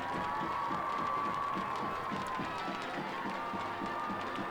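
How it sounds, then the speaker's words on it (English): A crowd cheers and applauds in the stands at a 2019 high school football game between Weslaco and Weslaco East, a steady, dense roar with a sustained tone running beneath it. "Let's give all these sweethearts a big round of applause"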